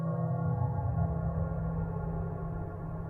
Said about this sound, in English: Sounds like this strange swirling noise.